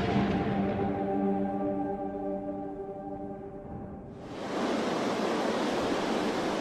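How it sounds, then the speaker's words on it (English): Torrential monsoon rain pours down on a king cobra nest in the Western Ghats, a dense broadband roar that rises sharply after a low humming passage and continues steady and close. "The deluge batters the female king's nest."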